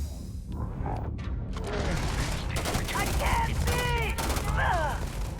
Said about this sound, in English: It's because she shot you in the face.